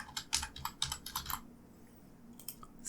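Quick, close keystrokes on a computer keyboard form a steady burst of typing for about a second and a half, then a short pause and a few more taps.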